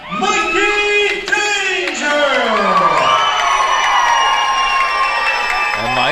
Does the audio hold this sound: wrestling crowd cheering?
yes